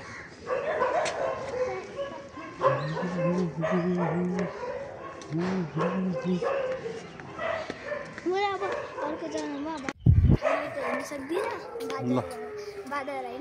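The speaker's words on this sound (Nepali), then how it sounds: "हो कुकुर जाउँछ सबै" A dog barks, yips and whimpers repeatedly during a temple visit, its whining cries mixed in with people talking nearby.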